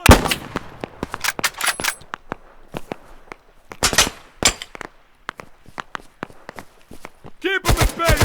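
Operation Harsh Doorstop gunfire cracks in irregular bursts of close, sharp shots with short quiet gaps between them, and shouted voices sound among the shots.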